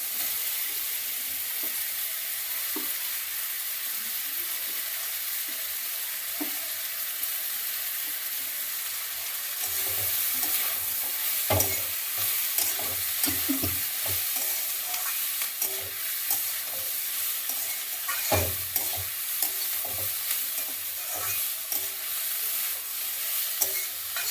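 Cabbage being stir-fried in a pan for a veg momo filling, with a steady sizzle, scraping stirs and clinks of a utensil throughout, growing busier partway through; no talking.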